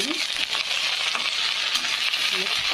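Okra sizzling in hot oil in a wok, an even crackling fry with faint stirring scrapes, close and steady throughout.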